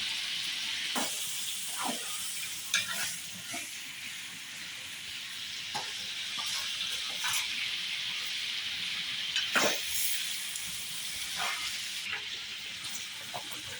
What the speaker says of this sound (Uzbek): Go'shtimiz, piyozimiz qovurildi.